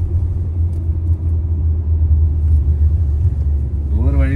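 A new car is driven along a village road in Tamil Nadu, giving a steady low cabin rumble of engine and tyres throughout. A faint voice appears near the end.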